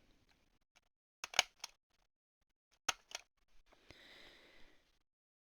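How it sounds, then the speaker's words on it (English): A stapler punching staples through lace and trim onto fabric while decorating fabric labels: a few sharp, separate snaps, close and crisp, with quiet pauses between them and a soft rustle of material afterward. "making sure I'm only stapling through this top layer"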